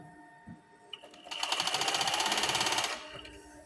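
A sewing machine stitches a heavy seam in fabric, a fast, even mechanical rattle that starts after brief handling noises, runs steadily for about a second and a half at close range, then stops.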